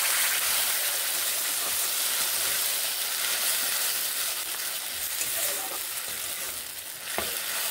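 Spices and tomatoes hiss and sizzle steadily in a hot pan while being sautéed for a vegetarian broccoli dish, a dense continuous frying noise with occasional stirring scrapes.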